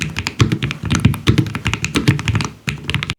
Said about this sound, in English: This is the Lofree Flow84 and it might just be the cleanest low-profile mechanical